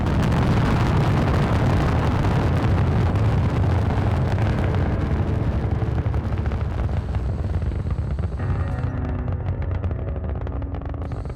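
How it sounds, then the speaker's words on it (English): Rockets striking Earth in the Call of Duty Zombies map Moon: a loud, sustained rumbling roar of explosions fills the whole stretch, thinning slightly near the end. "you free Samantha, do more Simon Says, then watch the coolest moment ever in zombies history, which is the destruction of Earth via the rockets we launch at it"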